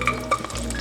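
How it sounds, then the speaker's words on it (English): Roasted garlic being stirred in a hot pan, with a soft continuous sizzle and a couple of brief scraping clinks from the utensil, close up. "Hear that sizzle, the sound of goodness."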